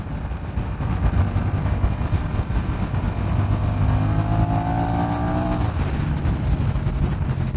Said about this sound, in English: I just wanted to open the throttle and see what happened